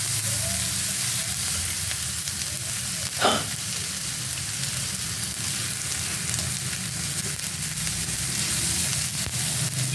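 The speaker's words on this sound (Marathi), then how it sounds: "टॅमॅटो पण टाकून घेऊया." Tomatoes drop into a hot frying pan and sizzle loudly and steadily, a dense close crackle with one brief clink of a spoon, no talk.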